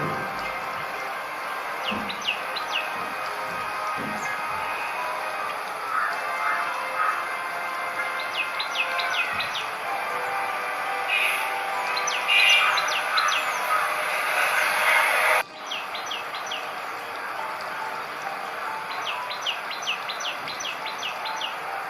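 Wild ashy prinias chirp in short repeated high calls at a nest while feeding chicks outdoors, with a steady background hiss and no talking.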